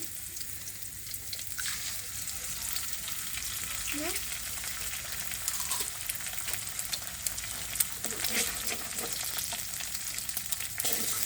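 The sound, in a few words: egg added to frying noodles in a pan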